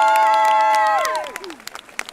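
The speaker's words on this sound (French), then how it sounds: "j'aimerais qu'on vous applaudisse" Crowd cheering and clapping at a platinum record ceremony, loud whoops and screams from the audience sliding down, then scattered claps as the noise fades.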